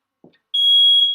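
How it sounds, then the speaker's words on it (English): A kitchen smoke alarm lets out a loud, piercing electronic beep that holds for about half a second, dips briefly, then sounds again and fades, preceded by a couple of faint soft knocks. "smoke detector's going off before I've even started cooking"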